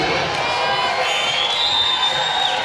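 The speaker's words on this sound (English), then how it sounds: "The crowd is activated" A basketball crowd at a Shaw versus Johnson C. Smith game cheers and shouts steadily as a player steps to the free-throw line in a one-point game, a dense, sustained roar with whoops rising over it throughout.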